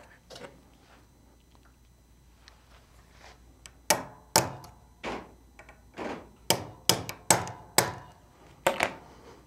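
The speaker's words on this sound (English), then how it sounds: "now I'm going to use my 16th inch roll pin punch to knock both pins loose" Sharp metallic hammer strikes on a 1/16-inch roll pin punch knocking roll pins loose from a CZ pistol frame, sparse at first then a quick run of about a dozen hits, each ringing briefly in a quiet room.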